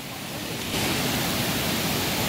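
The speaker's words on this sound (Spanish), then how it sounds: "ahora sí ya se ve que el río está creciendo" A swollen river surging after Storm Julia, a steady loud broadband rush of floodwater that swells louder partway through, heard alone with no voices.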